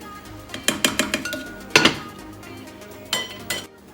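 Utensil scraping and clinking against a pot while a Turkish meat stew is stirred, a quick run of sharp metallic taps followed by a couple of louder clanks, close and with no talk.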